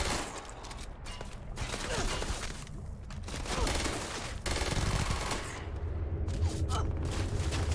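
A turret in the space game Starfield fires continuously, a dense, crackling barrage of rapid shots and impacts that fills the whole stretch at moderate loudness.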